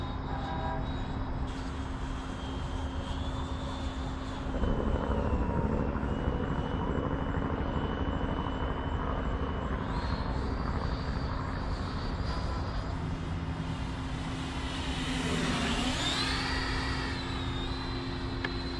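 Freewing T-45 Goshawk 90mm RC jet flying, a steady high whine and roar from its ducted fan that rises and falls in pitch as it passes, moderately distant and continuous.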